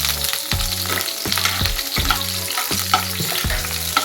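Onion and green chilli frying in hot oil for masala pasta, a loud, constant crackling sizzle close by, with rhythmic low thumps of a spoon stirring about every half second and no talk.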